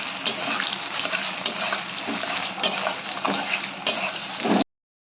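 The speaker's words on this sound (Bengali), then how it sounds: "পেঁয়াজটা আমরা একটু ভেজে নেবো ভালো করে।" Chopped onions frying in garam masala for mutton keema chana masala: a steady close sizzle with stirring scrapes and clinks throughout, cutting off abruptly near the end.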